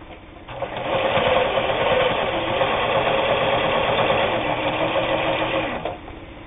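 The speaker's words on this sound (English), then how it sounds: "we're going to fold that 4 layers in half and we're going to sew 8 layers." A Japanese-made Kenmore 158.19802 sewing machine stitches through eight layers of heavy denim, its motor humming in a loud, steady whir with no sign of strain for about five seconds before it stops.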